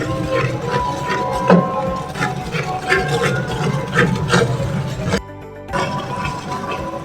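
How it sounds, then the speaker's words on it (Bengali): Spice mix is stirred into chicken pieces in a pan for a spicy chicken jhal fry curry, with close clattering and scraping of a spoon against the pan in irregular strokes, briefly stopping before resuming. "তো ভালো করে আমরা নেড়ে চেড়ে নিব যাতে মশলাটা ভালো করে মিক্স হয়ে যায়।"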